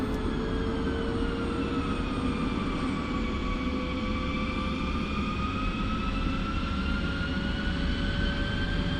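A Mi-24P Hind helicopter's turbine engine in the DCS flight simulator spooling up, a loud continuous whine with rising and gliding tones over a steady roaring rumble, unbroken throughout.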